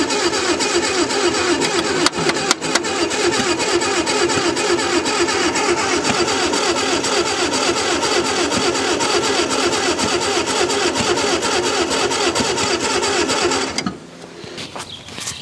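An Allis Chalmers FB20-24 forklift engine cranks steadily on its starter, a loud, rapid rhythmic churning that runs on without catching for about fourteen seconds, then cuts off abruptly.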